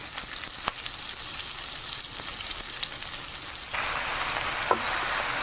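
Washed gongura leaves go into a hot pan with chillies for chutney, producing a continuous frying sizzle that grows louder and fuller midway, with a faint stirring tap near the end.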